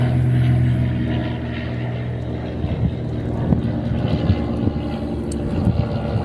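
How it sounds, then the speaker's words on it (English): Jet airplane passing overhead near a large airport in an outdoor urban area, a loud sustained rumbling drone that slowly shifts and fades, with faint background noise and no clear speech. "And I can't do nothing about the planes"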